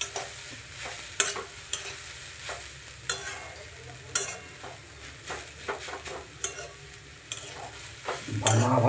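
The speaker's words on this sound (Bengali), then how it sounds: "দাঁড়াও একটু ভাজা হোক।" Grated carrots for carrot halwa fry in a pan and get stirred steadily, a continuous sizzle under repeated scraping strokes of a utensil against the pan, close and fairly loud, with no voices.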